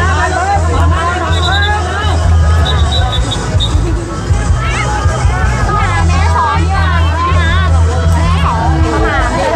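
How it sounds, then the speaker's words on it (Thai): A dense crowd packs the route of a festival alms-scattering procession with elephants, horses and dancers in Photharam, Ratchaburi, producing a loud, continuous babble of many voices, while a nearby voice talks over the hubbub. "ประชาชนเยอะมากๆเลยค่ะ"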